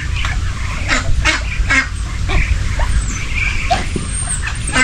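Ducks on a farm quack repeatedly in short, irregular bursts, several calls overlapping at close range over a steady low background hum, with no talking.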